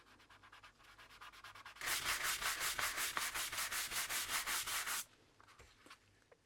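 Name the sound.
rubbing a clear coat of wax onto a leather cardholder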